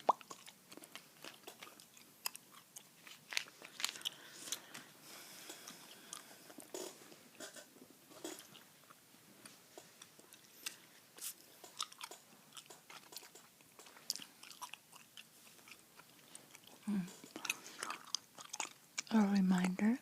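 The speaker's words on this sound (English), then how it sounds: "gum I'm chewing tonight, by the way. Bazooka, sugar-free chewing gum." Bazooka sugar-free chewing gum being chewed close to the mic, with soft wet clicks and crunchy bites scattered through the stretch alongside quiet soft-spoken talk.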